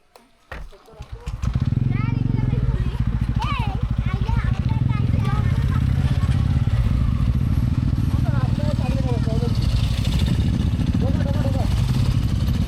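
A motorcycle engine idles loudly and steadily after starting up, a continuous low rumble that runs throughout, while people talk over it.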